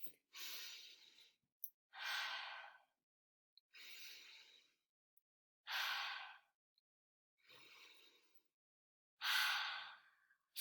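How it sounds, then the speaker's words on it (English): Six slow, deep breaths are taken during a relaxation pause in a children's lesson, each a soft breathy inhale or exhale of about a second, evenly spaced with silence between them and no talk. "Take 3 deep breaths."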